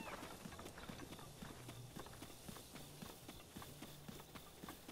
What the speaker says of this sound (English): This horse isn't even doing what I want it to.